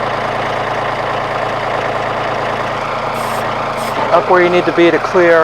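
A tractor engine idles at a steady, loud, close drone while a backhoe is attached, and someone speaks over it near the end.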